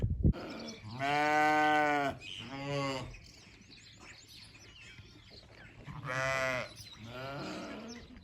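Sheep bleat on a village farm in two strong, drawn-out cries close to the listener, with shorter bleats between them and a quiet barnyard murmur underneath.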